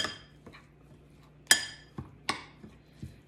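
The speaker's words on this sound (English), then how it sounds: "I'm going to just press it into the bottom of this pie dish" A nut crust is pressed into the bottom of a pie dish for a low-carb lemon mousse pie, giving a few sharp clinks and taps against the dish, several close knocks spaced about half a second apart with quiet in between.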